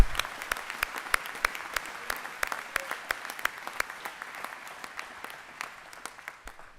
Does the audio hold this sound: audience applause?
yes